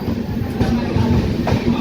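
The Charminar Superfast Express stands at Sullurupeta station platform, a continuous low rumble and hum with faint clanks, close and steady.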